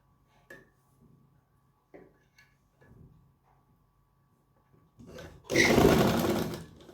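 Sewing machine stitching a salwar belt, with a loud continuous run of stitching near the end after quiet handling clicks and light taps.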